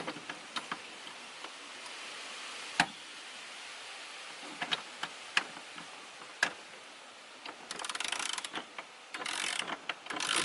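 A wrench works a nut on a strut tower brace on a 2018 Charger, giving scattered metallic clicks and ratcheting ticks up close, then a denser rapid ratcheting burst near the end, with no talking.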